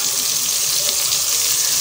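Homemade seafood stock made from cleaned shrimp heads pours into a pot for a seafood soup, a steady close splashing and running-liquid rush that holds evenly throughout with no talk.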